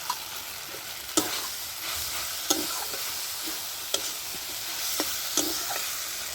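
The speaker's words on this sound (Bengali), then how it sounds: "এবার মাশরুম ভেজে রাখা মাশরুমটা আমি দিয়ে দিলাম" Pre-fried mushrooms in a sauce with tomato sauce, frying in a pan under a soft steady sizzle, with sharp spoon taps against the pan about every one to one and a half seconds; no voices.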